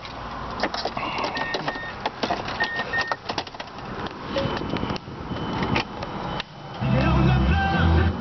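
A 2008 Mazda 3 starts at a dealership: clicks and a whirring crank, then a deep engine rumble builds and holds at close range over the last second or so.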